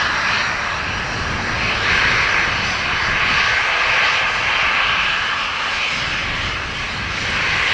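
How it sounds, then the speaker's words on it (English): A Hainan Airlines Airbus A330 with Rolls-Royce Trent engines roars close by at Dublin Airport, a loud, sustained jet whine and rush that holds steady throughout. "Hainan A330 on the way"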